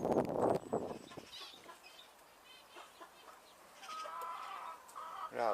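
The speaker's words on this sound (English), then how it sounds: "there were some chicks on the floor with its mother" Hens with chicks in an allotment run cluck and chirp softly, starting with a louder burst of clucking, then scattered faint peeps and calls at a moderate distance, with no talk.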